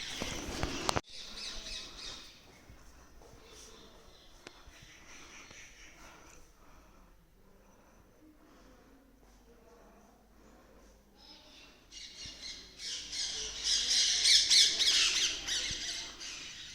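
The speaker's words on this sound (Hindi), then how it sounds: "और आप पीछे आवाज़ सुनो चिड़ियों की" Birds squawk and call intermittently outside a temple complex, growing louder and denser toward the end, with quiet background murmurs in between.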